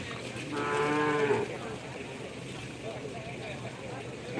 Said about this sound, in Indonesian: Ini sapi Jawa ya teman-teman.